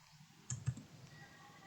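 A computer mouse clicks twice in quick succession while working in an Excel spreadsheet, crisp and close against a quiet room hum.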